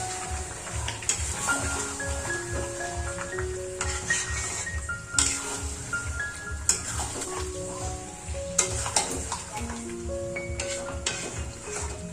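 Spice paste being stirred into marinated chicken for biryani: steady, close scraping and mixing sounds with a light sizzle and faint tones in the background.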